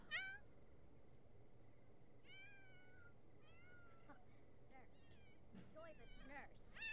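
Cats in The Sims 4 give a series of short rising and falling meows, several in quick succession and scattered across the clip, fairly faint over a low game background.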